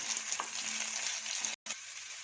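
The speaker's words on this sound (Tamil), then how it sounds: "வெங்காயம் லைட்டாக வதங்கிடுச்சு" Roughly chopped onions sautéing lightly in a pan, a soft continuous sizzle up close with a few faint stirring touches and a brief dropout near the end, without any talking.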